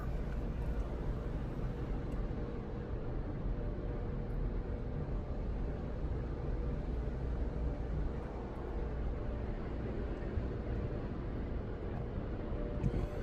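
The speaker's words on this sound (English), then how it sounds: "All right, see what the puppies think of the car wash." An automatic car wash runs around a car with puppies inside, heard from within the cabin as a steady, loud wash of rushing and rumbling noise that holds without a break, with no talking.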